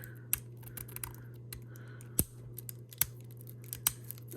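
Fingers picking at and pulling the tear strip on the shrink wrap of a board game box give sharp, separate crinkly clicks and snaps with brief rustles between them, close and fairly quiet against a steady low hum.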